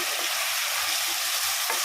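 Chicken tomato curry with chilli powder, salt, coriander powder and garam masala being stirred in a pan, a steady sizzling hiss with soft scraping stir strokes throughout, close and fairly loud, no talking.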